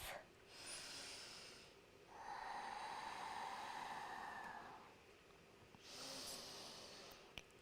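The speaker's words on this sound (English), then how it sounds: "If it's in your practice, come to that audible Ujjayi breath." Audible Ujjayi breathing during a yoga practice: slow, soft, hissing breaths close by, a few long inhales and exhales spaced over several seconds in a quiet room.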